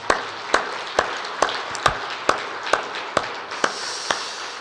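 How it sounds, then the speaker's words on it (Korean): Sparse, sharp claps ring out at a steady pace from a church congregation during a special dawn prayer service, about ten distinct hits over a faint background hiss. "우리 한번 박수 한번 더 드리게 합니다"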